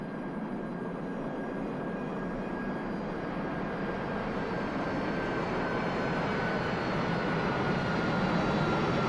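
Spitfire aircraft engine in the DCS flight simulator game, a steady, loud, unbroken propeller drone that holds an even roar throughout with no voices over it.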